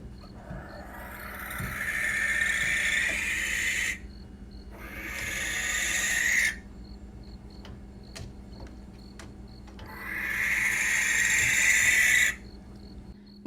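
A barn owl lets out three long, raspy, harsh screams, each lasting a few seconds with brief pauses between, close and clear with faint ticking in the quiet gaps.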